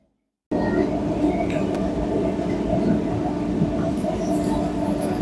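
After a brief silence, a train pulls into Krishnanagar station and settles into a continuous low rumble and clatter of rolling cars, heard close and steady from on board.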